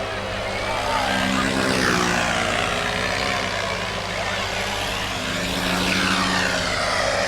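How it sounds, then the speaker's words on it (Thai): A paramotor passing overhead along the Mekong riverbank during a festival, its loud buzzing propeller engine drone swelling and fading as it moves past, with crowd noise and voices underneath. "อันนี้คือเสียงของพารามอเตอร์ที่ขับผ่านไปนะคะ"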